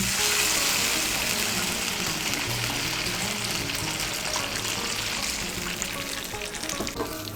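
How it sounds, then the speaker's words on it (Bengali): Hot water goes into a Bengali fish curry (macher patla jhol) in a pan, a dense steady hiss and sizzle of boiling liquid that holds throughout and fades slightly near the end, close by with no talk. "আমি এর মধ্যে 2 কাপ আর হাফ কাপ গরম জল দিচ্ছি"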